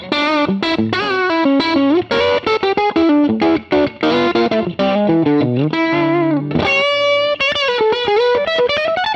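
A vintage Telecaster electric guitar is played low on the bass strings with driven, distorted tone, quick runs of picked notes and bends ending on a sustained chord, loud and close with no talking.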